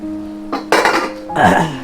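A metal pot lid is lifted off a simmering bottle gourd curry with lentil dumplings, making a close clank and rattle followed by a second scraping clatter.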